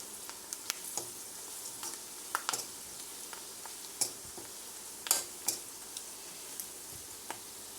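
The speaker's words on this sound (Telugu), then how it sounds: "ఇప్పుడు ఈ వంకాయ అంతా ఈ ఆయిల్లో వేసి ఫ్రై చేసుకుందాము." Masala-stuffed eggplants fry in oil with a quiet, steady crackle and sizzle. Sharp ticks and pops are scattered throughout, and there is no talking.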